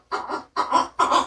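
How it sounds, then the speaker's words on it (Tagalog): A large bird gives three loud, close, harsh calls in quick succession, each a short squawking burst with brief gaps between. "Naririnig niyo yun, ibon?"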